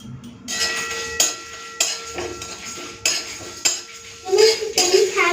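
Hard whole spices dry-roasting in a hot metal pan (kadai) for amla pickle clatter and rattle, with repeated sharp clinks and scraping stirs, close and fairly loud.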